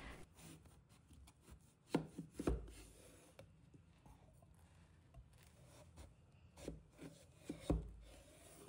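A knife cuts into a washed pumpkin on a cutting board, producing a few faint, dull thuds and soft scraping strokes, spaced out with quiet pauses between them.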